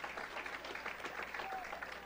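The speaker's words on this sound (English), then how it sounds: "Nice hand from the crowd." Crowd at a high school football game applauding from the stands, a steady, moderately distant wash of clapping and crowd noise for a couple of seconds.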